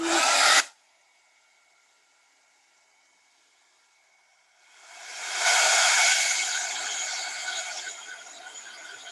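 A heat gun roars on at close range for heat embossing, a steady loud blowing hiss with a faint motor hum, preceded by a brief sharp burst and a quiet lull before the airflow swells up.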